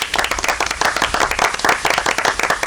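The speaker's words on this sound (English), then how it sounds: "I'm going to give myself a round of applause" Steady, lively applause from a small group, with clear individual claps in a quick rhythm and no speech over it.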